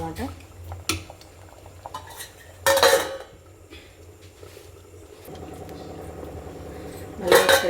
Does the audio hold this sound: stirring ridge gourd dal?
yes